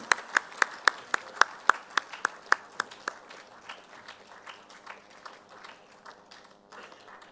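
Audience clapping at a felicitation ceremony of a golden jubilee conference, opening with a run of sharp, distinct claps that soften into scattered, fainter patters before fading out.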